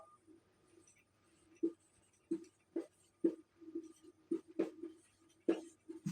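Chalk or marker tapping and scratching out a math formula on a board, a series of sharp short strokes in irregular rhythm, close and fairly loud, with no talking.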